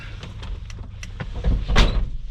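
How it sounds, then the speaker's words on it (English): A few light clicks and rattles, then a solid thud of a 1989 Chevrolet Suburban 1500's door shutting close by, with a brief rumble after. "I'm gonna shut the door."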